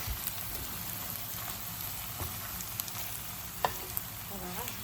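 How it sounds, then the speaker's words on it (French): Tomato, parsley and garlic sizzling in a pot for a chickpea and veal tajine, a continuous crackling fry with light scrapes and clicks as the mixture is stirred. "On mélange un petit peu pour que la tomate passe en jus."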